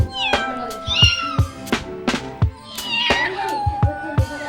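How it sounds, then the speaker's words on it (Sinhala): A cat meows repeatedly at close range, several distinct cries spaced through the stretch, with background chatter and household noise around it. "අන්සලයි පූසා."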